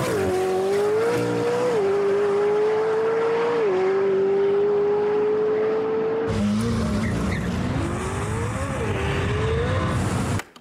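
A McLaren 720S racing a Tesla Model S Plaid: a loud, sustained engine note climbing steadily through gear changes, then a sharp shift into a rougher roar with tire noise as the run continues, heard close without talk.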